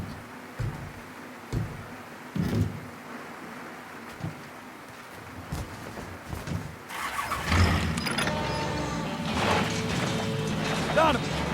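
In the video game Mafia 3, a car sits amid sparse clunks and a voice, then its engine fires up and settles into a steady, louder driving roar with rising revs in the second half.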